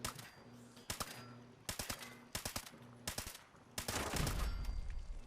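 Bursts of automatic gunfire in the video game Fallout 76, five short rapid volleys separated by brief pauses, followed by a louder rumbling blast near the end.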